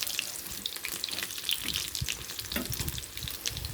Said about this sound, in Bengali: আমার এগুলো ফ্রাই করা হয়ে গেছে, এবার আমি তুলে নেব।